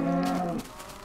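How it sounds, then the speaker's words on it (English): A cow in the Minecraft video game lets out one long, loud moo that cuts off abruptly halfway, followed by quiet game background. "That cow's dying."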